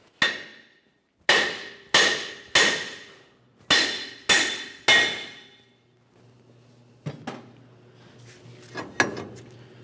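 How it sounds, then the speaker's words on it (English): Hammer striking a steering knuckle to separate ball joints on a 1994-2002 Dodge Ram 2500, seven loud ringing metallic blows in a steady rhythm, then softer clanks and shuffling work noise. "The next thing we'll have to do is cause some vibration so that we can separate the knuckle from the ball joints."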